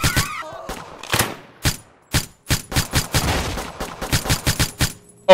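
Rapid gunfire in One Armed Robber, crisp separate shots in quick bursts, about twenty sharp cracks in a few seconds with short silences between.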